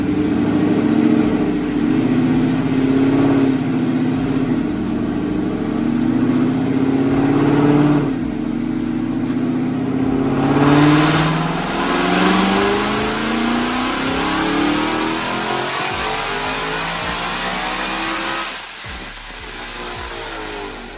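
A car engine revs hard on a Dynojet chassis dyno in a shop, climbing through sustained high-rpm pulls with a loud, rising roar, backing off midway and then building again, with no talk over it.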